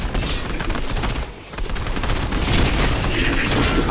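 Dense, loud rapid-fire gunshots fill a Fortnite match, with bursts of automatic fire and booming impacts running continuously apart from a brief dip.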